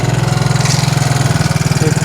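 A four-wheeler ATV engine that had sat unused for about a year runs at a steady idle, a close, loud, even low throb that continues without a break and with no talking.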